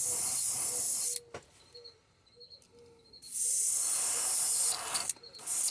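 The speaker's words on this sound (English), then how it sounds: "I loaded some more in the airbrush, and we're going to go over him one more time" An airbrush sprays custom paint onto a model African jewel cichlid: loud, steady hissing bursts start and stop close by, with a quiet gap between them, and no one speaks.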